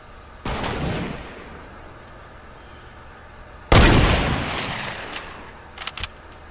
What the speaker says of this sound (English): Where are these shots going?